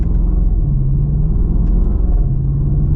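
A Range Rover Sport HSE Dynamic with an 8-speed gearbox in manual shift mode accelerates with a deep, loud rumbling engine drone heard from the cabin, its pitch dipping briefly as a quick gear change passes.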